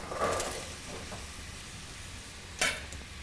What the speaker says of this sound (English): we're going to saute that for a little while until it softens